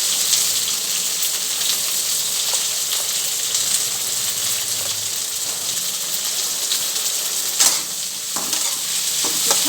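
Okra fries in hot oil with mustard seeds and garlic, producing a loud, dense, hissing sizzle that runs steadily throughout, with a couple of brief bursts as ingredients are stirred.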